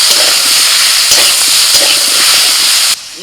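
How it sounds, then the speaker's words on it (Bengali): Green jackfruit, potato and soybean frying in oil in a kadai, a loud, continuous close sizzle with faint stirring clinks, cutting off abruptly near the end. "এঁচোড়, আলু আর সয়াবিন সব ভাজা হয়ে গেছে"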